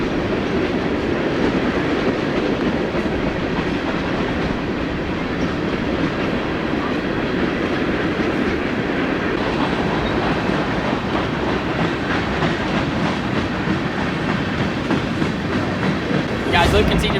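A train rumbles past near a golf course, a steady loud roll with rhythmic clickety-clack of wheels on rails that continues throughout, with no one speaking.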